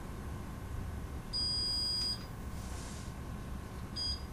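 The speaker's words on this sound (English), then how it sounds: "Again, I hear the beep." Two electronic beeps from a small device, a longer one followed by a brief second one, over a steady low background hum.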